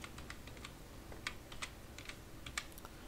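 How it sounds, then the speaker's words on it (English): Someone typing a command on a computer keyboard, a quick run of light, close key clicks in an irregular rhythm over a faint steady background hiss, with no voices. "Now you have to type another command,"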